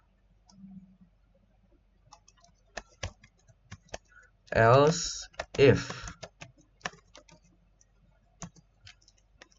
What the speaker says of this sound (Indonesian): Di sini kita akan mengetik ya.